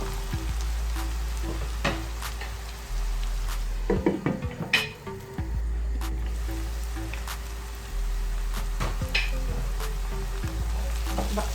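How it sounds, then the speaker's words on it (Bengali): Bean and potato vegetables for a mrigal fish curry fry in a covered pan, giving a steady close sizzle with a few clatters and knocks of the lid and utensil partway through. "একটু আবারও ভেজে নেব ঢাকনা দিয়ে ঢেকে প্রায় এক দুই মিনিটের মতো"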